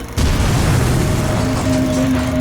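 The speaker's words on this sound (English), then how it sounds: "an explosion destroys a section of the Japanese-controlled South Manchurian Railway" A large explosion blows apart a section of the South Manchurian Railway near Mukden, a sudden loud blast followed by a sustained deep roar and rumble that fills the rest of the moment.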